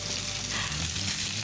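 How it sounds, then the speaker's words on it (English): A salmon fillet laid skin-side down in hot oil sizzles loudly and steadily, a dense hiss close to the pan with no talking. "I'm gonna put it in away from me. So if any oil splashes, it splashes away. And looking for that sizzle."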